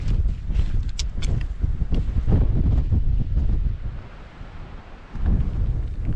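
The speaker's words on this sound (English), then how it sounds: "That wind and the fresh air, it's awesome." Strong gusty wind buffets the microphone on an exposed ridge hike in wind and rain, roaring continuously with a lull before a fresh blast near the end; no voices.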